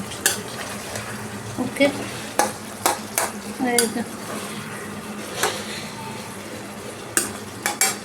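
Egg kasha stirred in a pan, with a spoon scraping and clinking against the metal in intermittent strokes over a soft background sizzle; a voice speaks briefly near the start.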